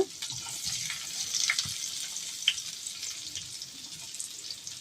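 Green chillies and onions fry in oil in a pan for chapati noodles, giving a steady mid-level sizzle with a few sharper pops and crackles throughout, no talking.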